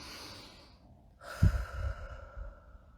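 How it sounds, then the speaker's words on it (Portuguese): A single deep breath taken as part of a calming breathing exercise, with a strong exhale rushing out after a quiet pause, close and alone. "E você pode fazer respiração de vários jeitos."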